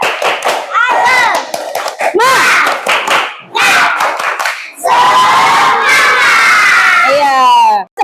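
A primary school class performs the tepuk semangat clapping chant, children shouting in bursts punctuated by sharp group claps, loud and close, ending in a sustained shout.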